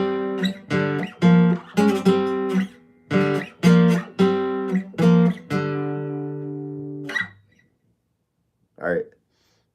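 A guitar plays a sequence of two-note plucks, each ringing briefly, ending on a longer sustained note that fades out.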